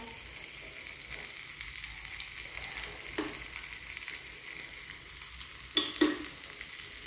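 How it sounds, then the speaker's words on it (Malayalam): Sliced onion and curry leaves fry in hot oil for shellfish fry, giving a steady, close hiss of sizzling with a few brief scrapes and stirring clatters toward the end, and no talk. "ഇനി നമുക്ക് സവാള ഇട്ട് കൊടുക്കാം. ഇനി നമുക്ക് വേപ്പില ഇട്ട് കൊടുക്കാം കേട്ടോ."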